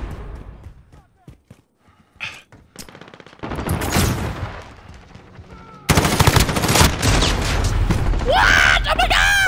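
Bursts of automatic gunfire and explosions fill a Modern Warfare team deathmatch, starting sparse and building to dense, loud continuous shooting; players shout and talk over it.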